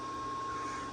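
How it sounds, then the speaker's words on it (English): A rotary phase converter runs steadily in a woodworking shop, a constant mid-level motor hum and whine with a fixed tone, no talking. "You can hear my rotary phase converter turning in the background."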